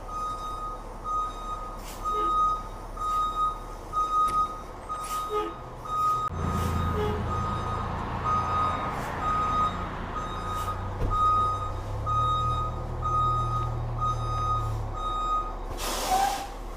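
A 2016 Entegra Anthem motorhome with a leaking rear hub reverses into a workshop, its loud backup beeper sounding in a steady repeating pattern over a low engine rumble, with air brake hisses near the start and end.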